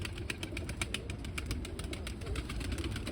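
Pigeons coo in a coop in low, repeated murmurs, fairly faint against a steady background hum, with a few soft rustles and no talk.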